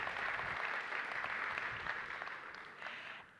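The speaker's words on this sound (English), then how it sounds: "Another round of applause, please, ladies and gentlemen, for Vision Angola." Audience applause at an African markets investment conference, a steady wash of clapping that holds for about three seconds and then fades out, moderately faint and heard alone.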